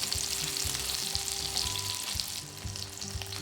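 Hamburg steak patties frying in a pan just after being flipped, a steady close sizzle and crackle with soft bubbling throughout, no voices.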